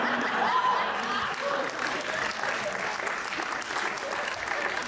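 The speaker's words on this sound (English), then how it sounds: "some of you are clapping" Audience at a stand-up comedy show in Utah claps steadily and loudly throughout, a dense wash of applause with faint chuckles mixed in.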